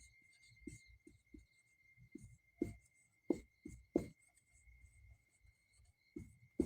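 Pen or pencil scratching across paper while a Class 10 maths problem is worked out, with short separate strokes recurring irregularly throughout, close and fairly clear over a faint background hum.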